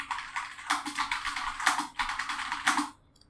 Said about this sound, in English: I don't like this typing stuff